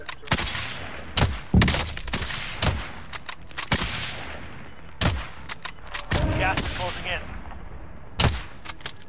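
Gunshots from the shooter game Call of Duty: Modern Warfare, sharp loud single cracks and short bursts scattered irregularly across the clip, close by, with people talking between the shots.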